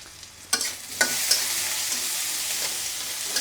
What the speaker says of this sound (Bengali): এখন ডালটা তেলে দেওয়া হচ্ছে